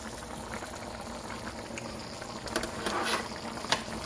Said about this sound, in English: Once you've got a good soft boil, reduce the heat to either low or simmer.